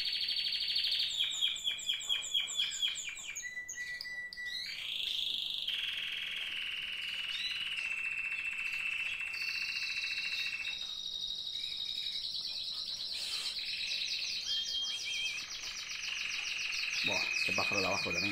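Small birds chirping in steady, high trills and rapid repeated tweets, fairly faint with a quiet background hum.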